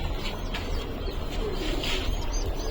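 Domestic pigeons coo in a home pigeon loft, a continuous soft, low murmur of overlapping calls close by, steady throughout with no talking.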